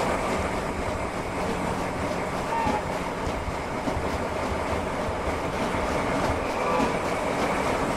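A train in the Roblox game Jailbreak rolls along with a steady, continuous rumble and rattling clatter, loud and unbroken throughout, with no talking over it.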